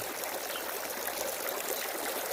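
Water trickles steadily from a backyard garden fountain, a continuous bright splashing wash with no pauses, close and evenly loud throughout.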